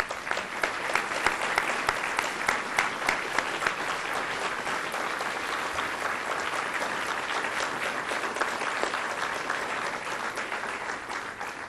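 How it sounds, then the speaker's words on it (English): Audience at a military health administration graduate program ceremony applauding the faculty, who stand to be recognized: a sustained round of dense clapping with a few sharper claps early on, holding steady throughout. "Can we give them a round of applause?"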